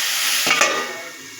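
Mixed vegetables for veg patties sizzle in a pan with turmeric, a spatula giving one quick scraping stir through them over a steady close frying hiss.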